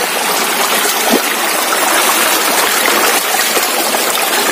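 Broadband rushing of river water in a rural Sundanese village stream after heavy rain, with the riverbed sunk low; a steady, loud, continuous wash of flow with no talking.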